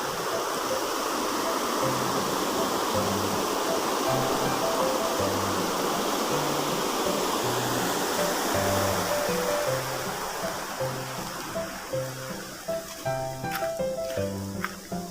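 Rushing river water at a fishing spot for catfish, swollen and high after heavy flow, making a loud steady broadband roar that fills the whole stretch, with some faint tonal chirps and clicks surfacing toward the end.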